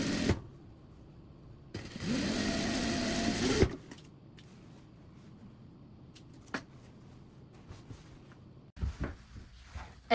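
A sewing machine stitches the lining opening of a drawstring bag closed in one loud, steady whirring run of about two seconds, followed by quieter handling clicks and rustles.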